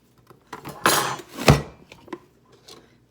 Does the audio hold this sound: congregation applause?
no